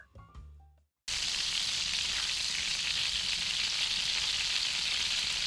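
Prawns fry in butter with garlic and cilantro, a loud, steady broadband sizzle that bursts in after a brief quiet opening and holds without a break to the end.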